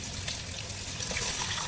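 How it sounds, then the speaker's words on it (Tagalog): Water pouring steadily into a pot of spicy beef nilaga seasoned with pepper and chili flakes, a continuous close trickling and splashing with no talk. "Naglagay na rin po ako ng tubig."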